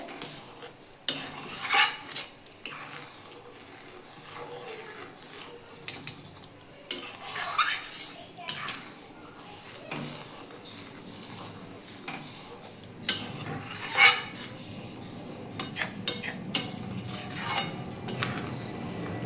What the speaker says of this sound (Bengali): আমি ভালো করে একটু নাড়িয়ে নেবো